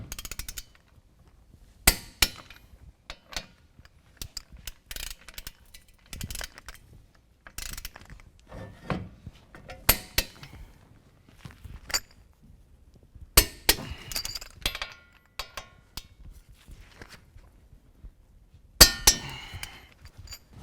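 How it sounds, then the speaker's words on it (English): Wrench work on unit bearing bolts of a 2017 Silverado 2500 HD being torqued to 125 pound-feet during a lift kit install: scattered metallic clicks, clinks and ratchet-like bursts, close and irregular, with quiet gaps between. "tighten these unit bearing bolts from the back side. We're going to go to 125 pound-feet of torque"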